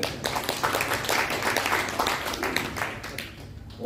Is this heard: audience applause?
yes